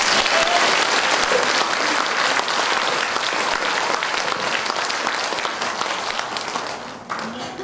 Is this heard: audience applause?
yes